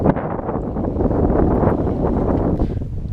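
Wind buffets a boat underway out on open water, a loud, continuous rushing roar with gusty swells that blankets everything else for the full few seconds.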